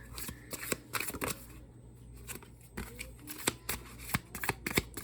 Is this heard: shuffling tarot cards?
yes